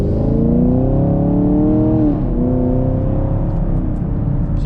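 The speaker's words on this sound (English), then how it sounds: "it's a dual mode exhaust where it bypasses more of like a straight through muffler when you go into track mode, and makes it a little louder" Pickup truck with an MPP dual mode exhaust in track mode, the muffler bypassed for a straight-through path, idling and lightly revving with a low, steady gurgling burble, close and loud, rising then settling, with no talking.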